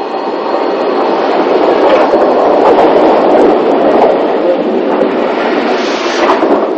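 Narrow gauge steam locomotives being marshalled into running order in the 1960s, a loud continuous rumbling roar with faint rhythmic chuffing and rail noise, steady throughout with no voices.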